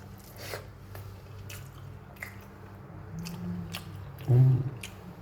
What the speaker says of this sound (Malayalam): അങ്ങനെ എടുത്തിട്ട് അങ്ങോട്ട് കഴിച്ചു നോക്കാം